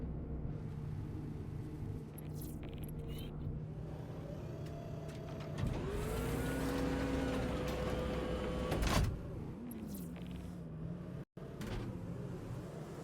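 A Drake Mule ground vehicle in a video game hums at a low idle, then its engine tone swells and whines for a few seconds as it pulls away before settling back to a quieter drone.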